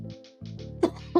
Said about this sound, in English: Oh, sorry, cough.